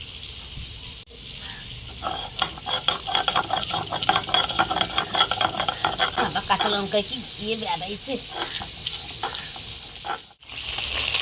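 Dhela fesha fish fry in hot oil with a constant sizzle and crackle. A person talks over the cooking throughout, and the sizzle dips briefly once near the end.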